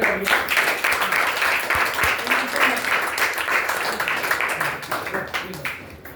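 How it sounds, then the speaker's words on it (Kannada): Schoolchildren in a classroom maths card game clap together loudly, a dense, steady burst of many hands that carries on for several seconds before easing off. "ಒಮ್ಮೆ ಜೋರಾಗಿ ಎಲ್ಲರೂ ಚಪ್ಪಾಳೆ"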